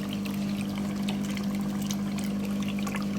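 Hot water gushes and pours steadily from a washing machine being drained during a cleaning cycle with an orange Mystic cleaner, a continuous near wash of liquid under a faint pump hum.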